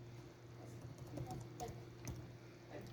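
Soft, quick tapping of keys on a computer keyboard as a search word is entered, a short faint patter of irregular clicks over a low steady hum, with no voices.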